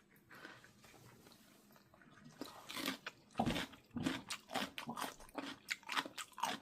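Crunchy bites and chewing of kkakdugi, cubed radish kimchi, close to the mouth: quiet at first, then a burst of loud wet crunches growing steadier as the chewing continues, with no talking.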